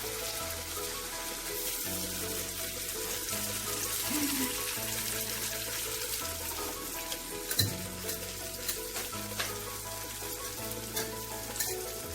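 Eggs sizzle and crackle in hot oil in a pan, a steady dense frying hiss with small pops and occasional stirring or clinking sounds throughout.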